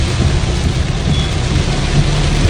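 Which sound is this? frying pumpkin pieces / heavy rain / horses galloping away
heavy rain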